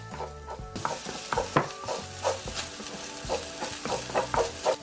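Barley and doenjang mixture is stir-fried in a pot with a utensil, producing repeated scraping and thick sizzling strokes in a steady rhythm, close and clear, with no talking.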